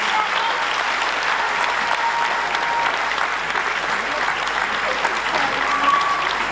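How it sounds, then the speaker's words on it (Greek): Steady, even applause fills the room as an audience claps for children after a spring stage performance, continuous and full for several seconds with faint voices beneath. "ένα χειροκρότημα για τα παιδιά"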